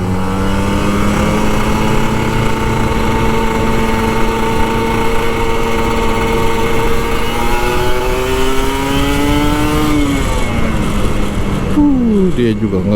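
A car accelerates along the road, its engine tone climbing steadily and then dropping near the end, heard close and continuous alongside a rider's Kawasaki Ninja RR 150 two-stroke motorcycle, with talk over the top.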